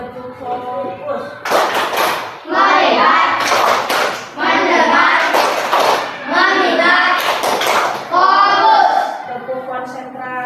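In a primary school maths lesson, children clap together in sharp rhythmic bursts between stretches of chanted voices, the claps loud and tightly grouped, alternating with the class calling out together.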